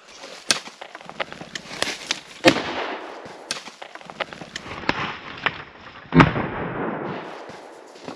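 Gunshots ring out during a forest grouse hunt in Idaho, several sharp cracks scattered irregularly across the clip, the loudest two standing out clearly above quieter pops and faint woodland background.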